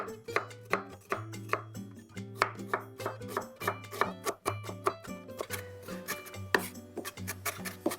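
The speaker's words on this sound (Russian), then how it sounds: "И также небольшими кусочками режу репчатый лук." Rapid, uneven knife chops through an onion on a cutting board, a steady run of sharp close taps with short pauses, over a low steady hum.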